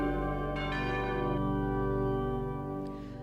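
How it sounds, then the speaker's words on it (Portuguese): Church bells of a São Paulo parish ring loud and steady, with rich sustained overtones swelling and blending together throughout, and a few sharper strikes breaking in along the way. "será que o barulho do sino da igreja pode ser perdoado?"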